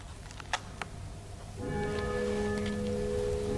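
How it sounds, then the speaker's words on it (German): After a couple of faint ticks, a church bell starts ringing and keeps sounding a steady, humming toll that carries on to the end. "Zum Ton der Glocken beten wir ruhig gemeinsam"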